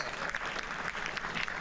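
An audience claps hands at a medical lecture on hypertension, a steady, faint patter of applause filling the short stretch with no voice over it.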